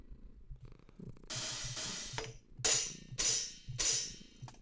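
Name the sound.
acoustic hi-hat samples from Logic Ultrabeat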